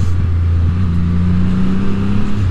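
2024 Triumph Rocket 3 R Storm motorcycle engine pulling hard with a deep, loud, close drone, its pitch stepping during clutchless upshifts without a quick shifter.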